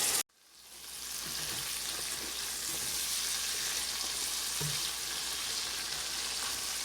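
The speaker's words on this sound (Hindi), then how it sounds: "अब इसको हम अच्छी तरह से भून लें।" Boneless beef for a stew frying in a pan, a steady, even sizzle that starts after a brief cut and continues close and unbroken, with occasional faint stirring clicks.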